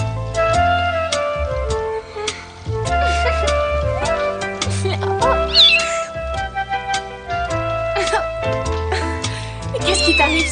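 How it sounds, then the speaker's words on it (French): A pet cat meows repeatedly indoors, loud and close, mixed with music and dialogue from people talking nearby. "Amy, je trouve que tu exagères un peu avec ce chat."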